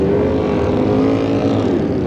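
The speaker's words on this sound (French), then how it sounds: "La moto est partie" A racing motorcycle pulls away at the 1977 Bol d'Or endurance race, a loud, steady engine roar with a sustained droning tone, close and unbroken, with no talking.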